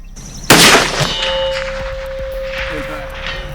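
A Sako TRG rifle chambered in .338 Lapua fires at a steel target 700 yards out: one loud, sharp blast opens, followed by a faint metallic ring as the round strikes steel, under a lingering outdoor rumble.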